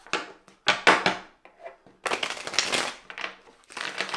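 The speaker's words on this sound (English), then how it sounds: "I'm just gonna shuffle this again." Irregular papery riffles and snaps in short bursts, a deck of tarot cards being shuffled close by, with brief pauses between passes.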